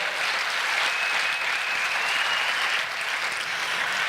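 Warm audience applause at a literacy gala, a steady even wash of many hands clapping at moderate distance, continuing without pause and with no voices over it.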